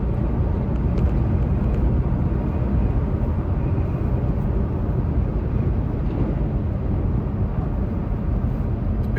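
A car drives at night on snowy, icy streets, giving a steady, loud broadband road and engine roar with wind buffeting and no voices throughout.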